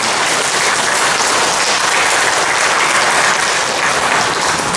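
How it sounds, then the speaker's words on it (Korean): An audience at a monthly filial piety day ceremony in Korea bursts into loud, steady applause that stays dense and even throughout, with no voices heard above it. "큰 박수 한번 부탁드리겠습니다."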